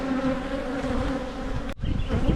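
Honey bees swarm around an opened backyard hive in a dense, steady buzz close by. The buzz breaks off for a moment near the end and then picks up again.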